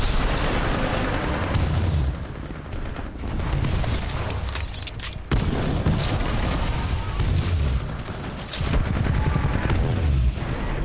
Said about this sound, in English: Firing laser core.